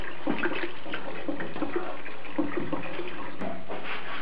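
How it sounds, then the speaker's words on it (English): Warm water pours steadily into the baffled steel fuel tank of a 1976 Mazda RX-5 Cosmo during restoration, a continuous close rushing and gurgling fill with no voices. "So what I'm doing is filling it with warm water"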